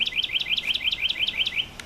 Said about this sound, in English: Oh, there's a bird up there somewhere.